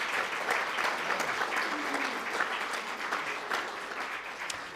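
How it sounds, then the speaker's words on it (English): Members of a citizens' assembly give the team a round of applause, a dense, even wash of many hands clapping that fills the room for several seconds, with faint voices underneath. "Please, Assembly members, give them a round of applause."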